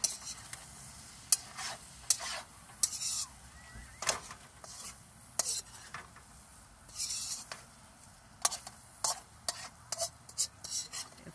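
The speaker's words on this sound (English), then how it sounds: "I just want to use the meat fat. But I do want to get a nice fry on this." Beef heart fries in its own fat in a pan with a steady soft sizzle, while a spoon stirs and scrapes against the pan in frequent sharp clinks, close by.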